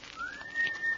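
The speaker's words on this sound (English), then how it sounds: "A young man stands leaning against a tree, whistling softly" A soft, thin whistled tone rises slightly and holds for about a second, a young man whistling quietly while leaning against a tree in a deserted city park late at night in a radio drama.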